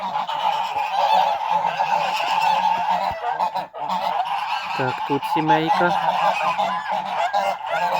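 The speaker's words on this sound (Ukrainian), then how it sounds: "Такий хитрий гусь." Geese honk repeatedly and loudly at close range, a constant noisy chorus, while a person speaks briefly in the middle.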